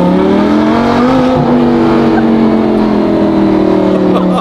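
Lamborghini fitted with a $10,000 aftermarket exhaust accelerates hard, a loud, close, continuous rising engine roar with a rough rasping edge that fills the whole stretch, voices faintly audible under it.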